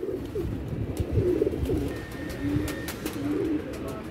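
Pigeons in a loft give low, throaty coos in repeated rolling phrases, moderately close and steady against a quiet background, with no talk.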